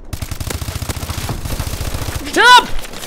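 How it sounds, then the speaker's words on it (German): Rapid machine gun fire in the Call of Duty: Advanced Warfare video game, a steady fast rattle of shots followed by a whooshing, warbling burst near the end. "Das war ein MG, ne?"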